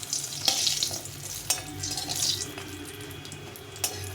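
Bori lentil dumplings fry in hot oil in a wok with a soft, crackling sizzle. Sharp pops and stirring clatters punctuate it, close and fairly quiet, with no voices.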